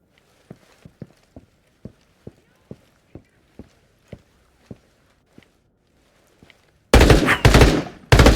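Gunshots in the Into The Radius VR video game, a steady series of sharp, evenly spaced single shots followed by a loud, sustained blast of noise at the end.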